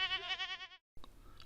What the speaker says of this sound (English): The goats are also very friendly, and they will eat anything